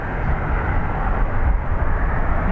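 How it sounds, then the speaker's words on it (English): A Ryanair airliner bound for Prestwick taxis at Dublin Airport, a steady broadband jet engine rumble holding at an even, fairly loud level throughout with no voices. "So we have a Ryanair to Prestwick about to come around the corner."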